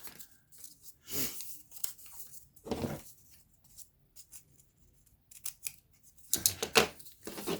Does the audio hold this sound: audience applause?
no